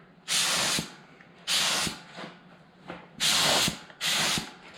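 A spray coating is applied to pistons for a 5.3 engine in an S10 build: four loud hissing bursts of spray, each nearly a second long, with quiet gaps between them.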